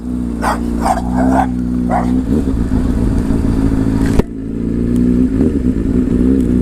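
A dog barks several times in quick bursts near a Honda CBR600RR sport motorcycle whose idling engine hums loudly and continuously underneath, with a brief clatter partway through.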